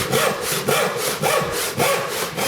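A hand rip saw cuts along the grain of wood on a saw bench in steady back-and-forth strokes, about two per second, rasping and close, with no talking.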